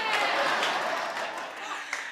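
A studio crew clapping together on a talk show set, a brief burst of applause that fades slightly toward the end.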